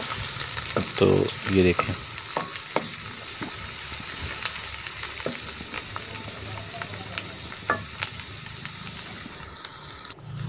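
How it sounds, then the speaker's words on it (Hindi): Onions fry in ghee with a steady sizzle in a pan for a chicken and bottle gourd dish, and a spoon clatters and scrapes as they are stirred. A voice speaks briefly. "प्याज डाल के उसको फ्राई कर लेना है"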